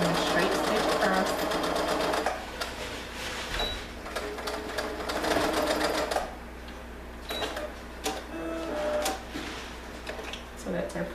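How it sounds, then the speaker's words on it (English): A sewing machine runs a straight stitch across fabric for a ruffle peasant dress, its rapid mechanical clatter coming in close, steady bursts with brief pauses between runs. "I'm just doing a straight stitch across"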